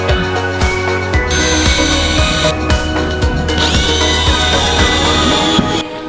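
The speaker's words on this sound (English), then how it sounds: "we're going to go ahead and drill some holes and bolt it right to the roof of the car" A power drill bores holes into a Pelican case mounted on a car roof, with repeated bursts of whining motor and grinding that start and stop, close and loud, with no talking.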